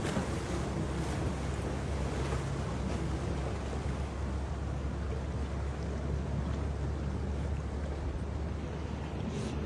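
Sea waves and wind on a foggy seashore, a steady broadband roar of surf and gusting air that rumbles on the microphone without pause. No voices.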